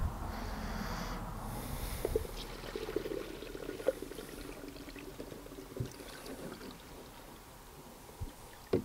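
Coolant pouring into a funnel on the header tank of a Range Rover P38, a quiet steady wash of liquid with faint gurgles and small knocks, no talk.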